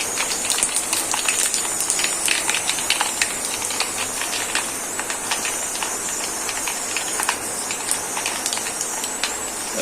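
Dense, busy crackling and popping over a steady hiss as mustard seeds splutter in hot coconut oil, continuous and close.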